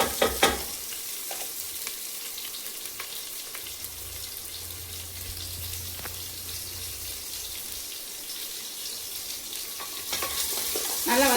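Onion and garlic sautéing in a pan for goat intestine soup, with a steady broadband sizzle and occasional stirring scrapes running throughout at moderate, close level, and no talk.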